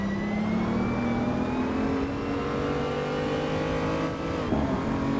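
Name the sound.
BMW M235i race cars in a virtual racing video game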